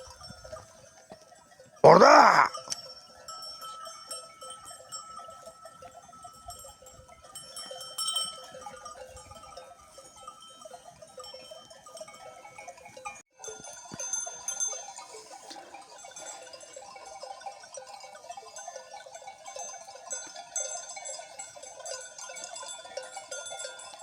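Sheep bleat intermittently at a distance across an open outdoor setting, with a loud close call early on and scattered softer calls throughout.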